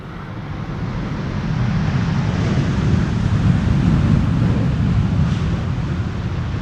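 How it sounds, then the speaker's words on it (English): A Boeing 787-10 Dreamliner landing on the Polderbaan runway at Amsterdam Schiphol gives a broad, rushing jet roar that swells steadily and stays loud, with wind noise on the microphone and no talk. "(787-10) Dreamliner returning from Delhi in India."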